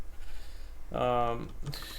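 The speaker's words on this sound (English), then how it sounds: "I got Jeb the sheep, which eats grass" Jeb the grass-eating sheep in a video game lets out a single short, clear bleat partway through, with low ambient sound around it.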